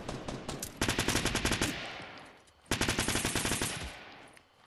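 Two long bursts of rapid submachine gun fire in Fortnite, each a dense stream of sharp shots starting abruptly and trailing off, loud and close with a brief pause between them.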